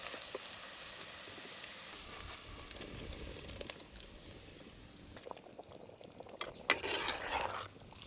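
Onions and dried red chillies sauté in a clay pot for village-style chicken clay pot rice, giving a steady soft sizzle with occasional scraping stirs that grow busier and louder toward the end.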